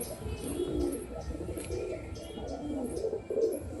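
An all-white pigeon coos softly in repeated low, throaty phrases, fairly close, with faint chirps and light background noise.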